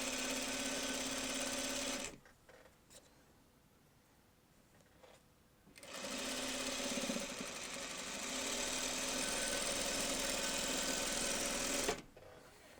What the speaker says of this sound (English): And we sew the two blocks together.